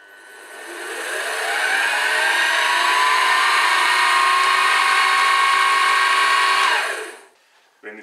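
An Optimum/Quantum milling machine spins up and runs at high speed with a steady, loud whine for several seconds, then winds down and stops.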